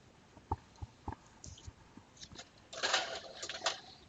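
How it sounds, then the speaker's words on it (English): An office printer runs while printing a check, giving a few sharp mechanical clicks and thumps followed by a louder stretch of whirring and rasping feed noise near the end, close by in a quiet room. "you can probably hear my printer running in the background"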